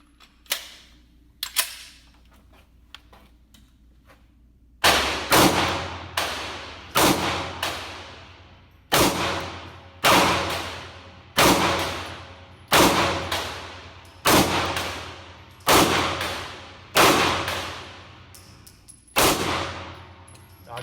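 A CZ P-07 pistol fires at a shooting range: a couple of distant shots, then a steady series of about a dozen loud, sharp reports at roughly even intervals, each ringing briefly.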